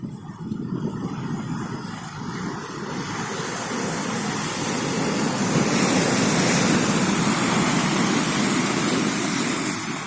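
Leftover sea waves roll into Spry Bay after the wind has died to a faint offshore breeze, a steady broadband wash of surf that swells slightly louder midway and carries on with no voices.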